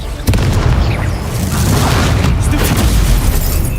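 The Confringo fire spell explodes in the Hogwarts Legacy video game as a loud, rumbling blast that begins with a sharp hit and roars on continuously to the end.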